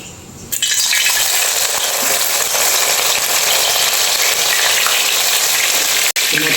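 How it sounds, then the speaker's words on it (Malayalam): Soybeans dropped into hot sesame oil for a pickle, starting with a quiet moment and then a sudden loud frying sizzle that stays steady and close, broken by a brief sharp cut near the end. "അപ്പോൾ നമുക്ക് ആദ്യം ഇതിനെ ഒന്ന് ഫ്രൈ ചെയ്തെടുക്കാം."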